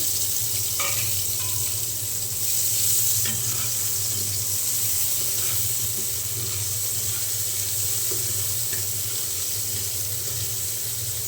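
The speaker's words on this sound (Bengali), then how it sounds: "এখন পেঁয়াজটা একটু ভালো করে ভেজে নেব।" Chopped onion frying in hot oil, a dense continuous sizzle with a steady hiss that holds even throughout, with occasional faint clicks and no talking.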